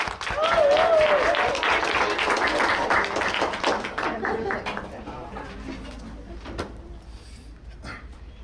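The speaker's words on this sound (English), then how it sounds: "manual applause for Tiz!" Applause from a poetry slam audience, full and lively at first with cheering, then gradually dying away to a few scattered claps and quieter room noise.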